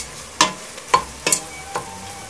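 Browning ground meat seasoned with oregano sizzles in a pan as a spoon stirs it, four distinct scraping strokes over a steady close frying hiss.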